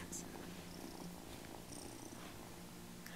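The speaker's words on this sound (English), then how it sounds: "Look at the cat." A cat purrs steadily and close by, a continuous low rumble with faint background noise.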